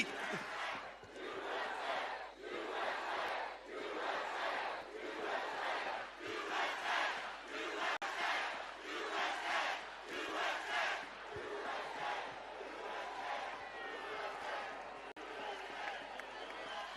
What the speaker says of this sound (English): Look at this crowd. It screams solidarity.